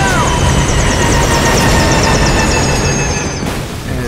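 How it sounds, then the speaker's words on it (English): A helicopter going down under fire in the video game Metal Gear Solid V: Ground Zeroes, with a loud, continuous engine and rotor roar that whines and wavers throughout. "Okay, it looks like our chopper is going down."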